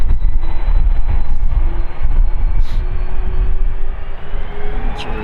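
An airliner's jet engines spool up for departure on runway 36L at Amsterdam Schiphol Airport, a loud, steady, broad roar that holds throughout with faint higher whines above it.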